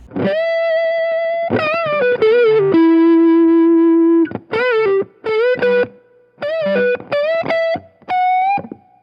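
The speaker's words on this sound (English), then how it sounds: "So this is everything else off, just the overdrive pedal." An electric guitar played through an overdrive pedal with all other effects off, playing sustained driven notes and chords followed by short, choppy phrases, clear and alone.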